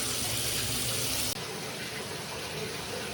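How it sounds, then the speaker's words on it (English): Water runs steadily from faucets and tubs during a hybrid water heater repair, a broadband rushing hiss that holds for the whole span, dipping slightly partway through as the flow shifts. "Faucets and tubs were ran for a little bit longer."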